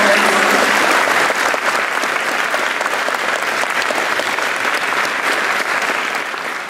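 A concert crowd at a poetry evening marking Chernobyl remembrance claps in a full, continuous roar of applause that stays loud throughout and tapers slightly at the end.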